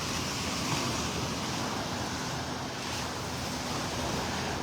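Ocean surf rolls continuously onto a beach as a loud, dense roar with no clear breaks, and wind buffets the microphone.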